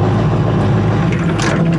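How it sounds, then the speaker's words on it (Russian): The gas turbine engine of an Iskander missile launcher vehicle runs as a loud, close, steady low roar with a harsh broadband rush above it, continuous for the whole stretch and heard alone. "Водитель заводит газотурбинный двигатель, пусковая установка начинает марш в заданный квадрат."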